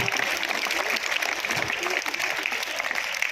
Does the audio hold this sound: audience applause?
yes